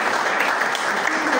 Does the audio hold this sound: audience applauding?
yes